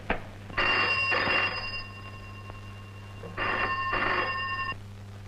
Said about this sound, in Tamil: உடனே திருநகர் போலீஸ் ஸ்டேஷனுக்கு அர்ஜென்ட் கால் பண்ணுங்க